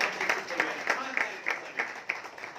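Applause from an audience at a Bahujan Samata Party political rights conference, steady scattered clapping with a few sharper hand claps standing out, heard moderately close and fairly faint.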